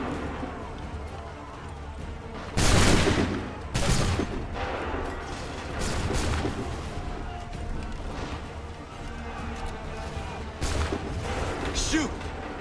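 Musket volley fire in Assassin's Creed III Remastered, several sharp booming volleys spaced a second or two apart over a noisy battlefield, with shouted voices in the mix.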